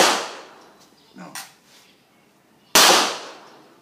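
Gunfire at an outdoor shooting range: two loud, sharp reports a few seconds apart, each trailing off in a short echoing decay, with faint clicks and small noises between them.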